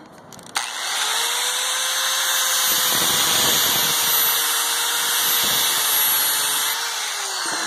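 A grinder sharpens a lawn mower blade, giving a sudden start and then a loud, sustained high-pitched grinding whine that holds steady for several seconds with slight wavering as the blade is worked.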